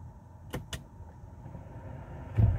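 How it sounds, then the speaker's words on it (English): Electric parking brake on a 2019 Ford Edge releasing and applying, two short whirring motor pulses close together near the start, then a muffled low thud near the end, quiet and close inside the car with no talk. "I'm going to manually release and apply the parking brake"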